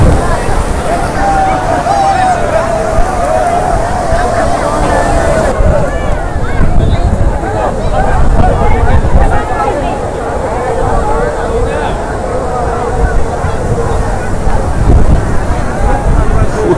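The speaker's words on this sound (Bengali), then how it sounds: "আজকে প্রচণ্ড হাওয়া, সেই সঙ্গে সমুদ্রের ঢেউ আশ্রে পড়েছে পাড়ে।" Strong wind buffets the microphone on Puri beach while rough sea waves crash against the shore in a loud, continuous roar, with a voice faintly present beneath.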